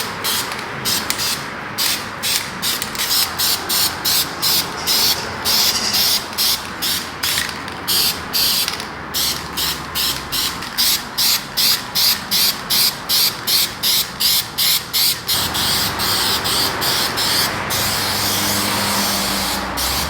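A spray gun lays a thicker top coat of paint onto a Ford F250 pickup truck, firing in steady, repeated hissing bursts with brief gaps between passes, close and fairly loud with no talking.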